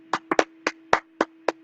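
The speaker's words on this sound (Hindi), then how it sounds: "जोरदार तालियां होनी चाहिए नारायण जी के लिए।" Sparse audience clapping, about seven crisp, separate hand claps spaced unevenly and heard up close over a low steady electrical hum, with no voices.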